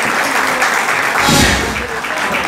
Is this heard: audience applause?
yes